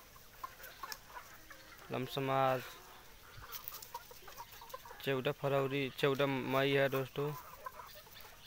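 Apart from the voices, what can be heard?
chickens and roosters clucking on a free-range farm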